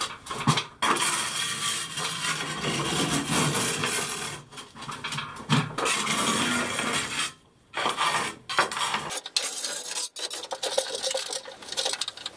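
Grout being scraped out of tile corners: continuous harsh rasping and rubbing strokes, close and fairly loud, broken by short pauses between passes.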